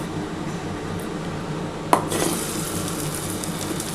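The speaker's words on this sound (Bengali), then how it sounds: "তেল আমার গরম হয়ে গেছে, আমি কিন্তু এবার পকোড়াগুলো বানিয়ে নিচ্ছি" Mutton keema pakoras frying in hot oil: a sharp utensil clink, then a steady close bubbling sizzle that swells slightly afterward, without speech.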